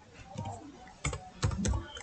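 Typing on a computer keyboard while writing HTML code, a few sharp separate keystrokes, close and clear, with a quiet voice faintly underneath.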